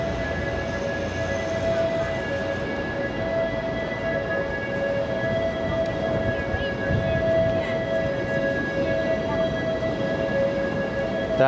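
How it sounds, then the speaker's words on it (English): A New York City ambulance siren wails in the distance on an Upper West Side street near 5th Avenue. Its steady tones hold faint and continuous above a constant rumble of city traffic. "That in the distance is one of New York City's ambulances. That siren is fairly new."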